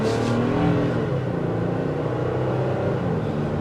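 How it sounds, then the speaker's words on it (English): A 2023 Toyota Tacoma TRD Sport pickup's engine pulls hard under acceleration on a test drive. The rumble is steady and strong, with road noise mixed in and no talking. "The engine note isn't too unpleasing, so you don't have like a drone note"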